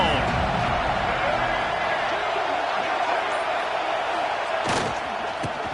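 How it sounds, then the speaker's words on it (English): A stadium crowd in a simulated football video game keeps up a loud, constant roar of cheering, with a brief sharp thud partway through and a commentator's voice talking over it. "This crowd ready to make its presence known."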